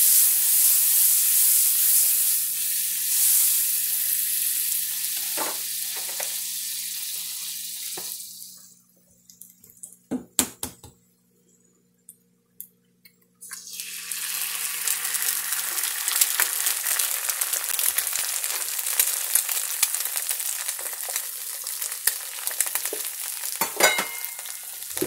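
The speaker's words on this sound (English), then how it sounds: "let's drop an egg in there and wish for the best" An egg fries in a pan over an open fire, making a loud, continuous close sizzle and hiss that drops almost to silence for a few seconds midway, then returns with scattered pops and crackles; no one speaks.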